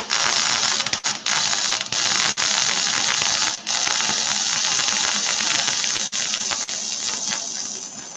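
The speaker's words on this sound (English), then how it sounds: "hear that sizzle?" A steady, loud hiss of food sizzling in hot oil fills the whole stretch, with occasional faint pops and crackles.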